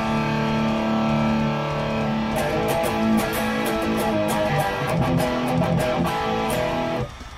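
Electric guitar with a PAF Master bridge pickup, driven by amp gain with no boost, rings out a sustained overdriven chord, then a run of picked, gritty notes before the sound cuts off near the end.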